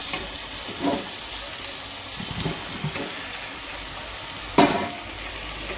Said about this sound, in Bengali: আমার মাংসটা এখানে ভালোভাবে কষে গেছে, তো এবারে আমি এখানে আলুগুলো দিয়ে নেব।